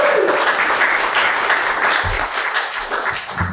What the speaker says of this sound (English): Give a rounding applause to Peter.